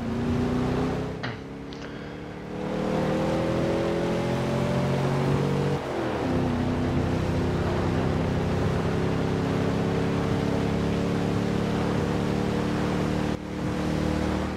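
A 2012 Cadillac Escalade engine in Forza Horizon 2 drones loud and steady, its pitch climbing gradually through long gear pulls with brief dips at shifts.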